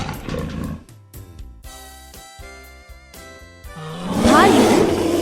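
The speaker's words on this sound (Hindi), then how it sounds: "बाघ," A tiger roars in a children's lesson about wild animals, a rumbling growl that swells into a loud, rough roar near the end, heard alone.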